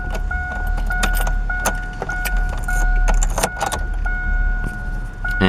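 Keys jangling in irregular metallic bursts over a steady car background hum with a faint warning chime tone, close and clear throughout.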